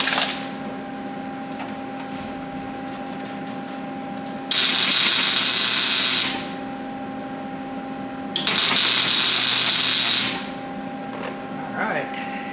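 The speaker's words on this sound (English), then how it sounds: "Let me get this turned on and let me get this welded together." Welding on a truck's rear cab support: two crackling, buzzing arc bursts of about two seconds each, loud and close, separated by a quieter steady machine hum.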